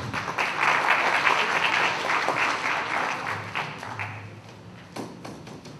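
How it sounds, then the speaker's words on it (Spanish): An audience applauds to welcome a lecturer at an arbitration conference, a dense, steady wash of many hands clapping that thins out toward the end, with a low murmur of voices under it. "Recibimos con un fuerte aplauso"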